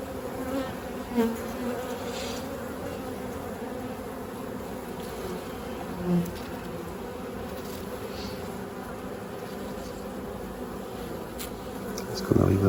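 Honeybees hum in a steady, dense buzz as they tend their queen in a hive, with occasional quiet talk over the buzzing.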